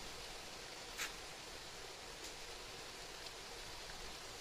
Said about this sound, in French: J'adore l'orage. Ça me berce.